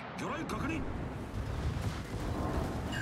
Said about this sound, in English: I'm firing a full-on salvo.